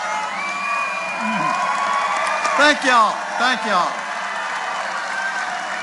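A large crowd at a televised event cheers, whoops and applauds in steady waves under a voice as he speaks over the noise.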